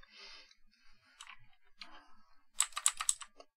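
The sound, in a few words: computer keyboard keys being pressed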